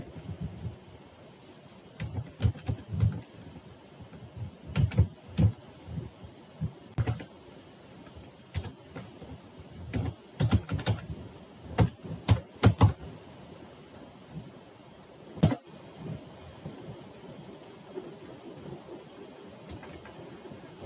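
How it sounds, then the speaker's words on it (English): Irregular bursts of computer keyboard keystrokes during a command-line password security lab, with clusters of close, crisp clicks, short pauses between words and no talking. "I'm going to type in echo."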